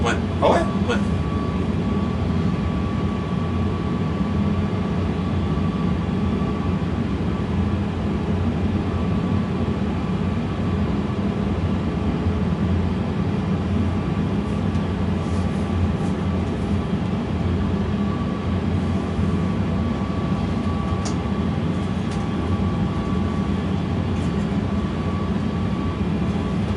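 An Airbus A320 flight simulator gives off a constant broadband engine roar and rumble, steady and unbroken for the whole stretch, with faint clicks on top.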